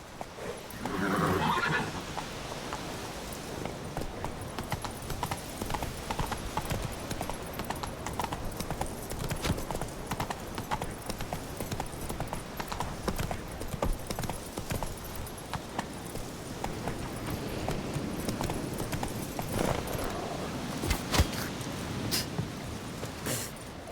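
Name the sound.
horse galloping in the video game The Witcher 3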